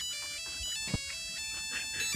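A phone rings with a repeating electronic melody of bright tonal beeps in a steady rhythm, moderately loud and close, with a short thump partway through and no talking.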